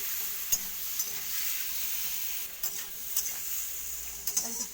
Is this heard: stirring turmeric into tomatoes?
yes